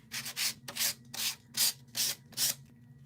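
Sandpaper rubbed across a paper card, with about seven rhythmic back-and-forth strokes, each a close, raspy scratch separated by short pauses.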